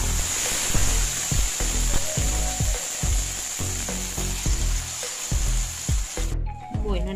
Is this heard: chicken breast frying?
yes